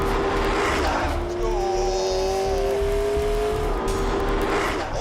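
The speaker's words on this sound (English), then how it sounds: "The electric motor and the big V8 generator are working together so that I have at my disposal 903 brake horsepower" A McLaren P1 hybrid supercar, its V8 and electric motor working together, pulls hard with a loud, steady engine drone that rises through the gears, with faint tire noise underneath and no talk.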